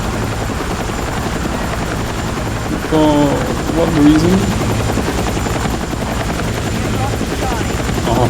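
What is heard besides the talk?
helicopter flying in video game Battlefield 6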